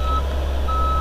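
A house-moving truck backing away, its reversing alarm giving steady high-pitched beeps over a constant low diesel engine rumble.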